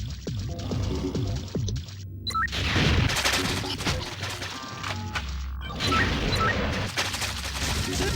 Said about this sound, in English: Shooting a Tri-Rocket Launcher down a corridor.